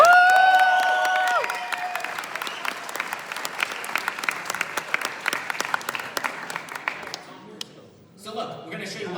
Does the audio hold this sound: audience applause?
yes